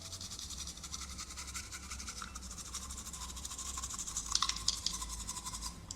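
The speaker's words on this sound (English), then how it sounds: "the next one is gonna be brushing teeth" A toothbrush scrubs teeth in a continuous rapid scratching rhythm, close and steady, with a low hum underneath and a few sharper strokes near the end.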